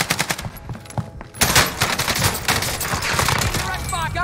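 Automatic gunfire in Warzone, loud rapid bursts of shots cracking close by, briefly pausing before a heavier continuous volley with some talk mixed in.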